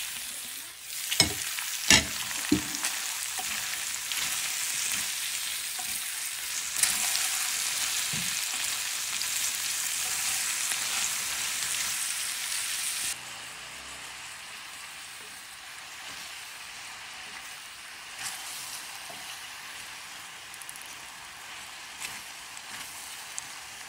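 Bottle gourd (upo) tossed into a hot pan sets off a loud, steady sizzle with scattered stirring clinks, rising to a fuller hiss midway before settling into a quieter fry.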